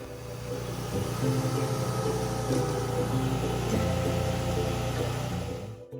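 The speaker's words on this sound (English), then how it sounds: "we load it into our auger truck for safe and efficient loading into the airplane" Steady mid-pitched engine drone of an auger truck loading seed into an airplane at an airport, a continuous close mechanical hum holding level for several seconds before cutting off, with no voices.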